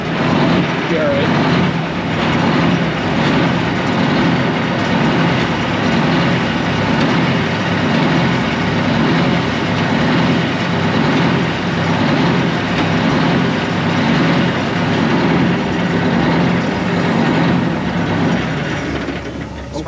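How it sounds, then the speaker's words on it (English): A big rig truck transmission with a loose gear, giving a constant loud mechanical rattle and clatter from a running drivetrain, with voices talking over it throughout. "Trans doesn't make more noise than that loose ass gear in there"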